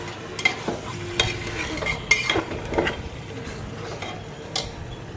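Meat being sautéed in a pot for an Eid meal, with scattered spoon scrapes and clinks against the metal over a soft, low frying sizzle, close and fairly quiet.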